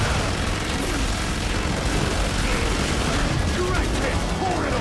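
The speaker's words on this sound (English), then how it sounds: "Flashbang out!" A flashbang grenade and a dense fusillade of gunfire erupt in Killing Floor 2, a loud, continuous wash of booms and shots with no distinct gaps, mixed with voices speaking.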